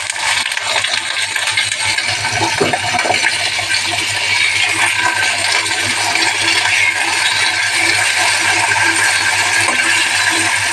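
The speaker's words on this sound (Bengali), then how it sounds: "এবার আলুটাকে আমি ভেজে নেব।" Potatoes frying in hot oil tempered with nigella seeds, a loud continuous close sizzle and crackle that holds steady throughout without speech.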